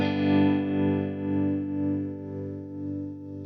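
A sustained electric guitar chord played through a VOX AC15 amp with its built-in tremolo on, the volume pulsing in a slow, regular wobble as the chord gradually fades.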